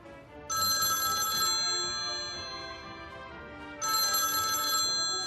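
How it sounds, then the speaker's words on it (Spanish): An old-style telephone bell rings indoors in two loud bursts about three seconds apart, with a quiet pause between them. "Este teléfono tiene línea directa con Putin."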